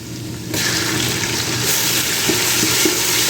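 Crushed garlic and pounded green chilli hit hot oil in a pan for a Tamil fish head curry, bursting into a loud, steady sizzle that continues without a break.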